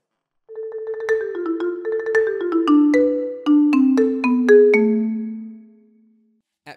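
A descending marimba passage mixing deep, slappy mallet strokes with lifted, resonant ones, with quick clusters of notes and longer ringing tones that fade out at the end.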